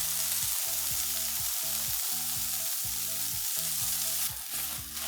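Paprika sauce with spinach sizzles in a pan over low heat, a continuous bright frying hiss with a faint repeating tonal pattern underneath, briefly dipping near the end.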